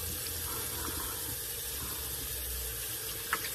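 Tap water runs steadily into a sink for rinsing off after a shave with a Heljestrand straight razor, a constant moderate hiss from start to end with one brief splash near the close.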